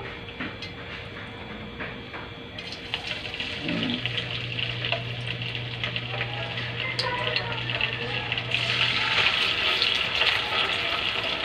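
Chicken pieces sizzling in a heated pan for a spicy chili garlic dish, a continuous close crackle and spatter that grows a little louder toward the end, with faint clatter and a low hum beneath.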